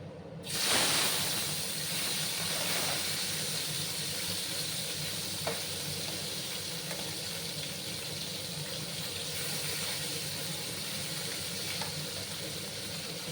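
A steady, loud sizzling hiss of small fish frying in hot oil, continuous throughout, with an initial surge and a few faint pops.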